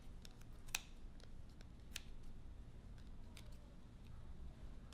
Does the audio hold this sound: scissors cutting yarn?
yes